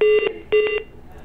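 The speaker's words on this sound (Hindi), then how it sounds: "ऐसा लग रहा है जैसे कि टेलीफोन लाइन कट गया" Telephone line tones sound after a call is cut off: two short bursts of steady electronic beeping, each split into quick pulses, loud and close, with faint background hiss after.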